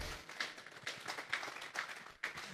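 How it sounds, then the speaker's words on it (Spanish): A church congregation at a Sunday service claps its hands as an offering to God, rhythmic scattered clapping spread through the moment, fairly faint and somewhat distant. "Vamos a darle una ofrenda de palmas a Dios en esta hora"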